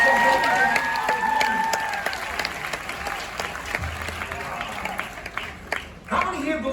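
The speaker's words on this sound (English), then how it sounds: "Please give her a nice round of applause." Audience applause fills a cruise ship theater after a magic trick, a dense, steady clapping crowd with some cheering that tapers slightly toward the end, with talk mixed in.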